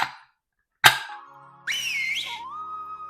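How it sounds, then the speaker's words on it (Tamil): A pressure cooker whistles as goat trotters cook inside, a sharp hiss rising into a loud, wavering steam whistle that sounds alone after a clattering knock. "இப்போ மூடி ஒரு 10 விசில் விட்டுடலாங்க."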